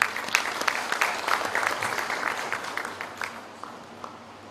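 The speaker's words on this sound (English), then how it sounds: "Let's give him a big round of applause." An audience at a Nepal Police Interpol centennial ceremony applauds, a dense burst of many hands clapping that starts strong and gradually thins and fades over about four seconds.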